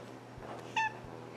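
An outdoor cat gives one short, sharp meow, brief and moderately close, set against faint background noise and a few low thumps.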